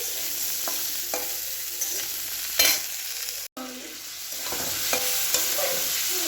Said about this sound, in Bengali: আমি এখানে ভালো করে এঁচড়টা ভেজে নিয়ে মশলার সঙ্গে এঁচড়টা কষিয়ে নিচ্ছি।